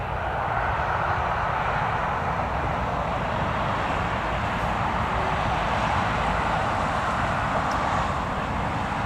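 An aircraft passing at Newcastle Airport fills the air with a loud, steady engine roar and broad rushing noise that holds constant throughout, with no voices.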